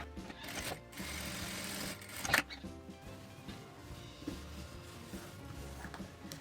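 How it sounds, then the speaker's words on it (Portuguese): A sewing machine runs a straight seam through printed fabric, a soft, steady mechanical whir with a brief sharper clack midway, quiet and close with no talking. "vou passar uma costura reta aqui também com a distância de um pé de máquina"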